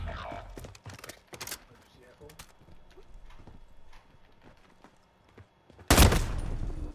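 Scattered sharp gunshots in a shooter video game, single cracks spaced irregularly with one loud, close blast near the end, while players talk throughout.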